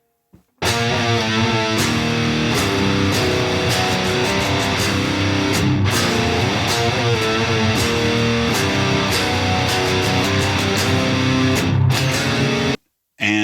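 Two distorted electric guitars play a metal riff in harmony, a dense, loud chugging pattern that runs steadily with short rhythmic breaks and stops abruptly near the end.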